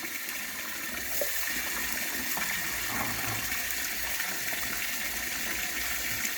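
Steady gushing water poured over a Labrador dog during a bath runs continuously for several seconds, a broad splashing flow with no voices over it.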